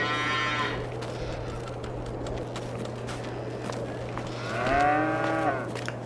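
Cattle mooing inside a full cow barn in the Farming Simulator 22 video game, two drawn-out moos, one at the start and a louder one near the end, over a steady low hum and faint footsteps.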